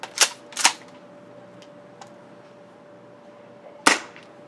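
A Jag Arms Scattergun gas-powered airsoft shotgun fires in a few sharp, close pops: two quick shots, a faint tick, then one more crack after a pause, set against a steady low hum.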